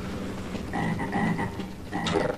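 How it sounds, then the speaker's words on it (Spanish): Frog croaking in the game Half-Life: Azure Sheep: a low, buzzing ribbit repeated in several short bursts over a steady ambient hum, moderately loud, with no voices. "Escucho un sapo, una rana."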